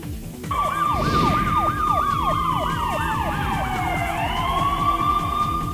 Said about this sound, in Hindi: पुलिस की गाड़ी का सायरन सुनकर भागता आरोपी